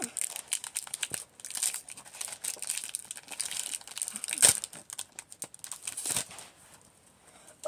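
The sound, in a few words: opening a trading card pack, crinkling wrapper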